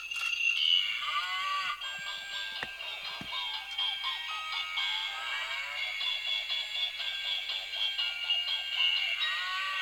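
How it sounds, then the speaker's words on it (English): A moving Christmas novelty cow toy that poops plays tinny electronic Jingle Bells in a steady high melody, with a few mechanical clicks, continuous for the whole stretch and nothing else over it. "The pooping cow that moves and plays jingle bells."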